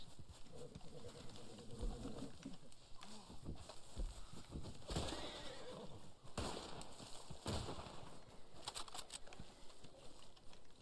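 A horse neighs in the Red Dead Online video game amid a dense, busy game soundscape with hoof clip-clop and bird sounds, the whinny rising over constant background noise.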